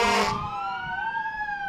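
Fire engine sirens in a small-town parade in Valley City, a loud burst fading into overlapping wailing tones that rise and fall, moderately close over street ambience.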